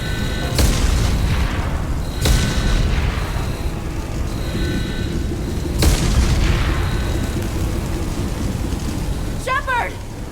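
Heavy explosions rock a starship under attack in the Mass Effect 2 game, with several loud booming blasts and rumbling debris over a constant low roar, plus a short alarm-like electronic chirp near the end.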